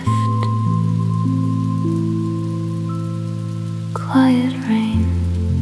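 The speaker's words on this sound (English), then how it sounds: "Quiet rain" Quiet, gentle rain falls steadily as a soft hiss beneath sustained, calm synth-pad tones on a Tokyo night, with no talking.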